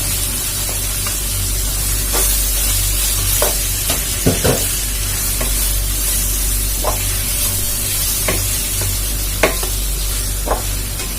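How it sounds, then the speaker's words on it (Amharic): Garlic sizzles steadily in a pan while roll cabbage with potato is being cooked, with intermittent close scrapes and taps of stirring over the continuous loud frying hiss; no talk. "እንደዚህ ጥብስ ካደረግን በኋላ ነጭ ሽንኩርታችንን እንጨምራለን።"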